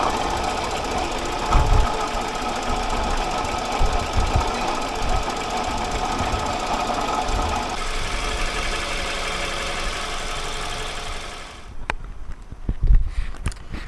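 A 2004 Toyota Wish 2.0z engine with a worn, noisy water pump runs close by, giving a steady loud mechanical whir with rapid knocking and rattling, then a brief pause near the end before it resumes.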